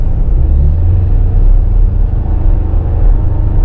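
Deep, steady rumble of a 2024 Toyota Tacoma SR5 4x4 double cab driving, a loud low cabin drone with mild swells and no speech.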